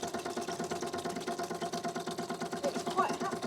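Electric fuel pump on an MGB sports car pumping petrol into a jug, a fast regular ticking pulse repeating steadily throughout, close and moderately loud.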